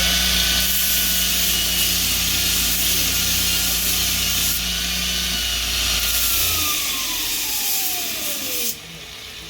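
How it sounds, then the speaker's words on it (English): Jansen Supply multitool grinder-sander running a 120 grit belt against a metal spike, a loud continuous close whine and rushing grind that holds steady and then drops in pitch as the motor winds down at the end. "Spike that's been grinded down with a 40 grit and take it to a 120 grit."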